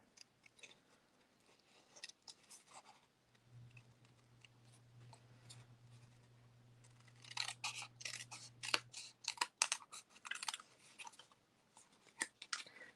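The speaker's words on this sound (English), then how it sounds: "I'll just cut along these right here." Scissors cutting through small paper boards, giving a run of crisp snips that grows into a rapid, dense cluster of cuts. Quiet and close, with a faint low hum partway through and no voices.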